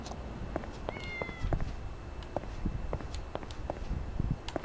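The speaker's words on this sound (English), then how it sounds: "Oh, a cat." Cat in the video game Yakuza 6 giving a few short meows over soft game ambience and footstep clicks, fairly close and moderately loud, with no talk.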